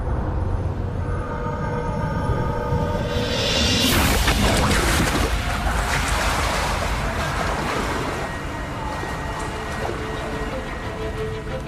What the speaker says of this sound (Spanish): El simulador recrea olas de 3 metros que son bastante comunes cuando un tifón azota la bahía de Osaka